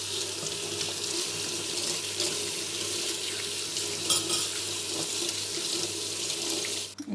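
Kitchen utensils are rinsed under a running tap, a steady broadband rush of water that continues without a break and briefly clatters near the end.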